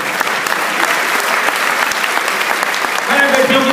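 An audience at a Hindi comic poetry gathering in Toronto claps steadily, a dense wash of applause that swells slightly near the end.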